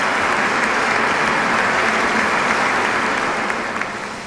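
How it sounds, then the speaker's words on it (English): A huge crowd at an outdoor peace festival gives sustained, dense applause, a continuous roar of clapping at even loudness that eases slightly near the end. "Let us welcome everyone once again with a warm round of applause."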